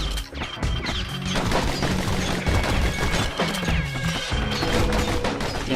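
Rapid gunfire from the Kid's twin guns in the action game Bastion, a dense, loud burst of shots and impacts layered over game music and effects, continuous throughout.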